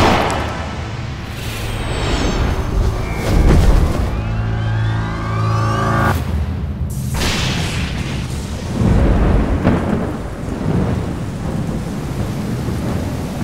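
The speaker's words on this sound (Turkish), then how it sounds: "Nereden çıktı bu yağmur?" A thunderstorm with heavy rain: dense, loud rainfall hisses throughout while deep thunder rolls and booms several times, swelling and fading in long rumbles.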